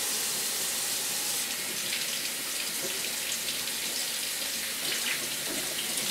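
A kitchen faucet runs steadily in a constant, even hiss of flowing water, unbroken from start to finish.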